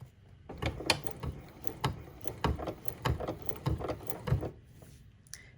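A sewing machine top stitching with a number 10 edge-stitch foot, running in short bursts of rapid mechanical clatter and needle thumps with brief pauses, close and fairly quiet.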